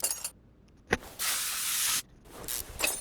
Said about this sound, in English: if bolts don't come loose, spray them with PB Blaster or your WD-40